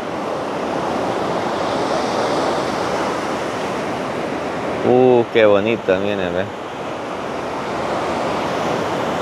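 Sea surf at El Majahual beach in El Salvador washes in a continuous loud roar with wind buffeting the microphone, while someone speaks briefly over the crashing waves midway through.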